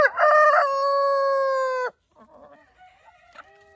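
A farmyard rooster crows one long, loud cock-a-doodle-doo close by, followed by softer clucking and small hen noises from a backyard flock of laying hens.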